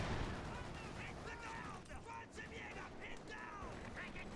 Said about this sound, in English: you're going to have the MG34 opening up on their counterport very shortly